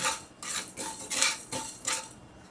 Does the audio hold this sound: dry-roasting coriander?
yes